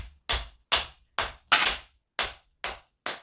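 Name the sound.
hammer tapping an earthing stick wire on a hard surface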